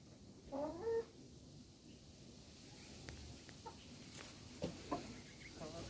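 Rhode Island Red chickens, a rooster and hens, cluck softly in a backyard coop, with a few brief calls scattered over quiet background noise.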